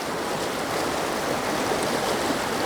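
Turbulent shallow pocket water in a trout stream rushes steadily in a dense, continuous broadband wash, close and loud throughout, with no voices.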